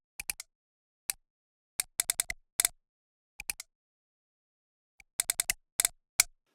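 Sparse, irregular clicky percussion hits from a randomized drum machine pattern, in small clusters with silent gaps between, dry and close.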